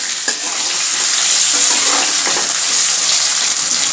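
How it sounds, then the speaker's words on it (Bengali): Potatoes with turmeric and salt are stirred in a frying pan, and a loud, continuous sizzle runs under soft scraping as the spoon moves through them, with no talking. "দিচ্ছি অল্প একটু হলুদ, দিচ্ছি অল্প একটু লবণ, ভালোভাবে মিশিয়ে নেব"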